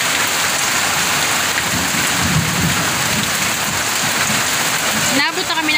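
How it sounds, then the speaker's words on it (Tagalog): Heavy rain falls steadily in the provinces, a loud constant hiss on surfaces with low thunder rumbling underneath, and a voice is faintly mixed in. "Sinabot na kami ng ulan."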